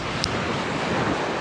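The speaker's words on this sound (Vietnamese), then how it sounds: "Wow, sóng quá cả nhà ơi." Rough, steady wash of ocean surf at a seaside fishing village, broadband and continuous with wind buffeting the microphone throughout, no voices.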